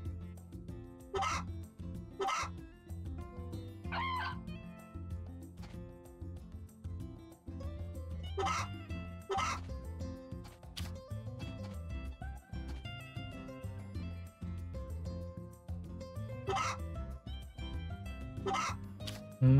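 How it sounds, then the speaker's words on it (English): Farm chickens in the cozy farming game Story of Seasons: A Wonderful Life cluck in short, scattered bursts over gentle background music, moderately close, with no talk. "Let's check in on our chickens."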